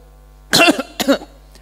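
Two sharp, close coughs about half a second apart, loud and fairly raw, followed by a faint trailing sound and then quiet; no one speaks over them.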